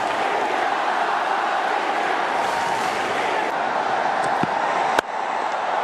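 A cricket crowd at Wankhede Stadium cheers a wicket, the broad roar holding steady and close throughout, with a few sharp claps or bangs near the end and voices loud in the mass.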